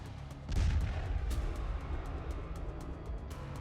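A landmine goes off when a pig wanders onto it near Russian soldiers in eastern Ukraine: a sudden heavy boom, then a rumbling tail with scattered cracks, moderately distant.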